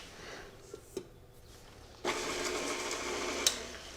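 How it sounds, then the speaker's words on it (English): Electric stand mixer starts up midway to combine dry chocolate cake ingredients in a home kitchen, a steady whirring motor hum after a couple of soft knocks, no one speaking. "I'm just going to mix them on the mixer until they're combined"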